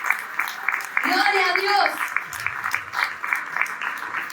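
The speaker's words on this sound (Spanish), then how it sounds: "Un aplauso." A church congregation claps along steadily while a voice exclaims over them, the applause continuing as a patter beneath the speaking throughout.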